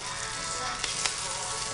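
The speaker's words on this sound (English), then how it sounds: "Got the butter going right there. I'll put my little meat chunks in there." Small meat chunks fry in hot butter in a pan with a dense, steady sizzle. A couple of sharp pops stand out midway.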